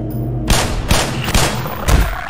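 Gunfire in the video game Black Mesa: four loud, sharp shots in about two seconds, spaced fairly evenly over a steady low in-game rumble.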